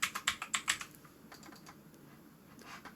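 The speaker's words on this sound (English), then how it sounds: "And let's start typing some text." Rapid keystrokes on a computer keyboard as text is typed into a box, a quick burst of loud clacks up front, then lighter, scattered taps trailing off.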